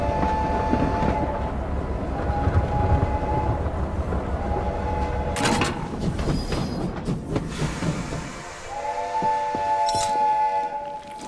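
Train pulling into a new station in the Voidtrain video game: a steady rumble of rolling wheels with clattering and tonal squeals, a hissing burst midway, then a sustained whistle-like tone as it settles, with no talk.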